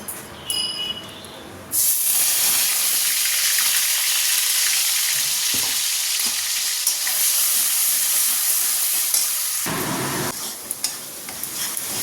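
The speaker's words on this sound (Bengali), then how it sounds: "এবার এই যে এখানে মশলাটা কষে নেব" Soybean chunks and spice masala fry in a pan with a loud, steady sizzle and hiss that holds nearly unbroken. It drops off briefly near the end before resuming. No one speaks.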